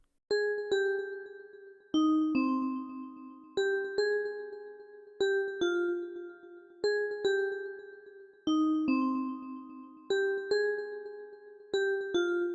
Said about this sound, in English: I finished laying out the bells for you, the delay bell. So this is how it sounds.